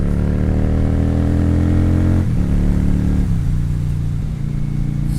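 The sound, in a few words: motorcycle engine revving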